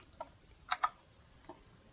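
A handful of quiet computer keyboard keystrokes tap out in quick clusters, a few clicks near the start and a pair of sharper taps, then one more.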